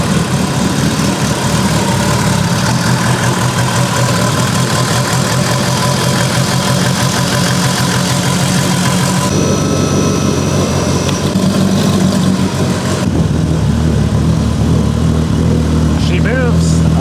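A Mitsubishi Evo engine runs loud and close, a continuous low idling drone that shifts tone partway through as the car starts driving, with a voice briefly over it.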